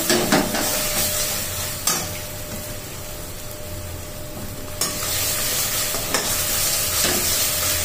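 Watery ground poppy seed paste frying in a pan over low heat, a loud continuous sizzle with a few abrupt stirring scrapes spaced through it.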